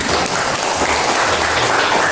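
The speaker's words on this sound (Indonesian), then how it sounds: "Tepuk tangan untuk semuanya." A classroom of students applauds everyone at the end of a lesson. The clapping is loud and dense, a continuous close wash of hand claps lasting about two seconds.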